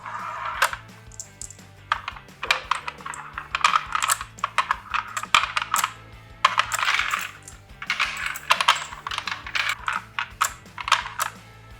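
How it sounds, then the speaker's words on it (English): 5.56 rounds being loaded into an AR15 30-round magazine with a BenchLoader produce a steady run of sharp metallic clicks and clacks, close and clear, with no talking. "Then you can start setting the bullets inside."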